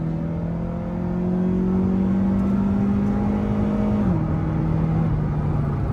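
A car accelerates along a busy road, its engine holding a steady, rising drone close by that shifts pitch once partway through, with continuous traffic noise underneath and no talking.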